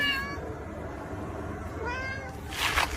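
A kitty meows twice, clear and close, with a short harmonic cry at the start and another near the end, followed by a brief rustly burst.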